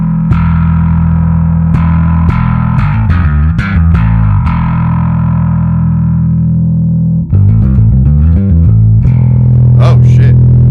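An electric guitar runs through a Microtube pedal set for almost no distortion, playing loud, clean, slightly effected chords and single notes with ringing sustain and a brief pause before more strums.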